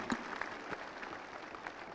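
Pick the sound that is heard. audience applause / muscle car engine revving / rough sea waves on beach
audience applause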